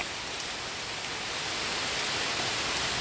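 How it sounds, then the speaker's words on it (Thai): Steady rain falls with wind blowing outdoors, a dense, even hiss that holds constant and swells slightly toward the end. No voices. "ฝนก็ตก ลมก็พัด แดดก็ออก"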